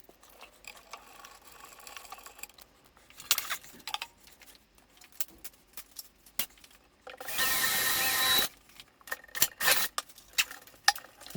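A power drill whirs in a single loud burst of about a second while drilling a countersink for 3mm screws on a lamp mount, among scattered clicks and handling noises from a workshop desk.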